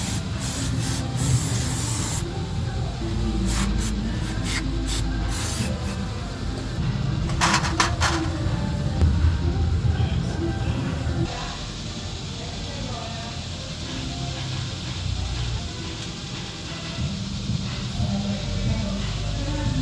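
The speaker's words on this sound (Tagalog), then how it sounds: "Mga tornilyo mga boss, ini-steel brass natin yan." Wire brushing the screws from a car timing belt cover, a steady, close scratchy scrubbing that keeps going for the whole stretch with short stops and changes in pace.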